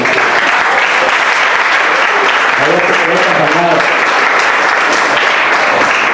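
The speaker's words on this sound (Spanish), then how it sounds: "¿Cuántos dan palmas al Señor?" A church congregation claps hands during a sermon, loud and continuous close-up applause throughout, with faint voices rising briefly in the middle.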